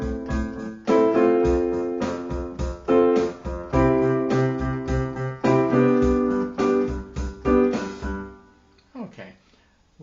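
Pop-rock piano plays triads with syncopated right-hand rhythms over a pulsing left-hand pattern. The chords land off the beat in clear, loud stabs, then fade out near the end.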